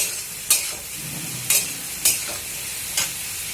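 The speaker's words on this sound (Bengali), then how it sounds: "একটু কষিয়ে নেব, এই 2 মিনিট কষিয়ে নেব" Hilsa fish masala sautéing over a high flame, a steady close sizzle broken by four sharp scraping strokes of a spatula spaced about a second apart.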